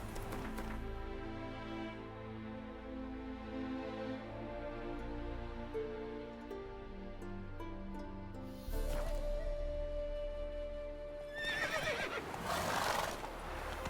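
Roach, a horse in The Witcher 3 video game, lets out a long, harmonic whinny, then hooves clatter near the end along with a second burst of neighing, close and clear with no talk.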